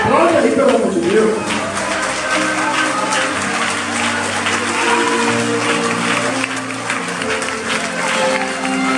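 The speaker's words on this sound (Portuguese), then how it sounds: "Aplauda aí, pelo amor de Deus." A church congregation applauds continuously after a pastor's sermon, a steady wash of clapping with a sustained musical backing underneath.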